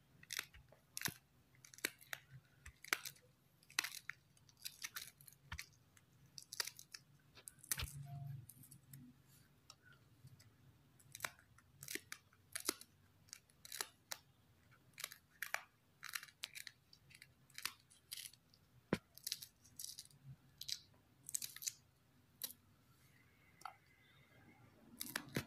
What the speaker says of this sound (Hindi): सब्ज मिर्च हम इसके अंदर बारीक बारीक काट लेंगे